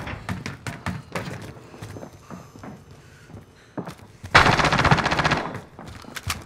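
Automatic gunfire in Call of Duty Warzone Resurgence: scattered single shots and short bursts early on, then a loud, sustained rapid burst near the end, with light footstep-like taps between.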